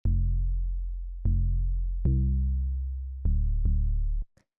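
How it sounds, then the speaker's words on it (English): A deep 808 bass plays the root notes of chords, with six booming notes in a steady pattern, each sustaining and decaying slightly before the next, heard alone and clean. "So the next layer is this 808,"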